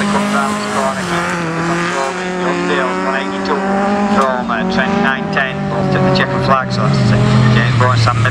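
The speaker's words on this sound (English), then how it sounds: "Just take evasive action and slow it right down, but no problems for James Bowe as he gently comes round this corner" A racing car on a hillclimb-style course slows and eases round a corner, its engine note dropping and shifting in pitch, heard loud and close with a commentator talking over it.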